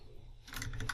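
A short burst of a few quick keystrokes on a computer keyboard, soft and close, following a brief quiet moment.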